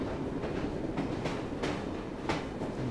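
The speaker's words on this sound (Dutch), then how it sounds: "ik ga dus nu met de trein daar helemaal heen" A steam-era train rides the rails in Assassin's Creed Syndicate, giving a continuous rumbling roll broken by regular clickety-clack wheel beats over the rail joints, close and steady.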